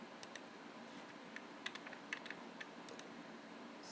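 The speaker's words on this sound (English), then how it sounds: "If you're hearing some mouse clicking sound, it's because I am doing drafting read at night." Faint, sparse computer mouse clicks come from someone drafting late at night, scattered irregularly over a quiet background hiss.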